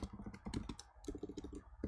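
Keys clatter on a computer keyboard as text is typed into a font design program, quick light taps in short uneven bursts, close and soft, with no talking.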